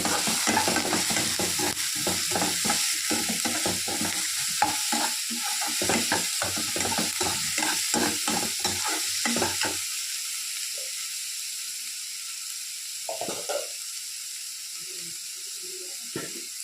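Onions and tomatoes frying in a pan for a lentil-dumpling curry, with rapid rhythmic scraping strokes of stirring over a hiss for about ten seconds, then a quieter sizzle broken by a few scattered stirs.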